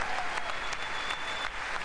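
Sustained, dense applause fills a large chamber during a presidential address to Congress, a steady roar of many hands clapping at once with no pauses.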